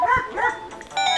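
Dog barking in Zelda: Ocarina of Time, a quick pair of short game barks followed by a brief jingling chime, close and clear.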